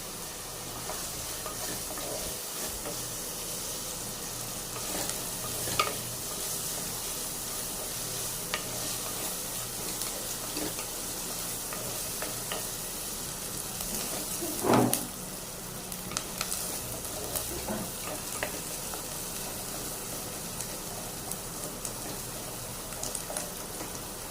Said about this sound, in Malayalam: ഇതിപ്പോൾ ചെറിയ ഉള്ളിയും വലിയ ഉള്ളിയും കൂടെ ചേർത്ത് ആണ് ഞാൻ വഴറ്റുന്നത്